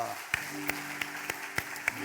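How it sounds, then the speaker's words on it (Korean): Applause from a church congregation during Sunday worship, heard as a handful of sharp claps in a slow, even rhythm over soft, sustained tones and a faint voice. "우리가 박수 한번 해주시겠습니다"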